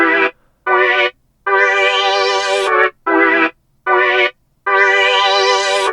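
Looped beat of rising major chords on a bright synth, played as a sequence of sustained chord blocks separated by short gaps, loud and close with no voices.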